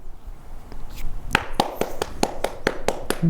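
Hand clapping, about ten sharp claps in a fairly even rhythm that start partway through after a quieter stretch, close and crisp with faint background noise.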